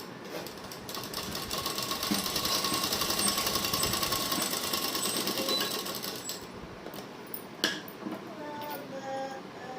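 A sewing machine stitches a pant with a pocket, a fast continuous ticking whir running steadily for most of the stretch before easing off near the end.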